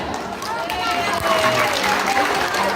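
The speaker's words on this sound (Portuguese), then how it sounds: "Palmas!" Audience clapping from a crowd at a live show, a dense, steady patter of many hands spread across the whole moment, with voices mixed in underneath.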